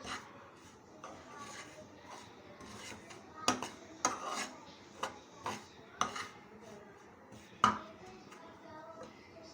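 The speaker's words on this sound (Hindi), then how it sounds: "ये देखें, इसकी अच्छी तरीके से भुनाई हो रही है।" Wheat flour halwa being roasted and stirred in a pan, heard as quiet irregular scraping and sharp clinks of a spoon against the metal, several distinct knocks spaced through the stretch.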